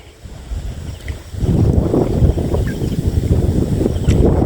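Strong wind buffets the microphone in rough low gusts over open rice fields, building after the first second and staying loud and continuous, with no talking.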